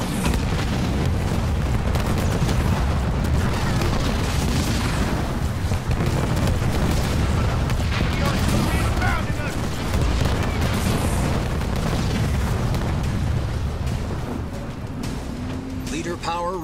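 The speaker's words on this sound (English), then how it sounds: "I'm receiving fire from enemy ground troops." Continuous booming explosions and rattling gunfire fill a Halo Wars 2 battle with ground troops and vehicles, loud and dense throughout and easing slightly near the end.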